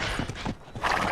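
A horse's hooves clip-clop in a quick run of close, distinct strikes, with a brief pause partway through before the steps resume over a soft background hiss.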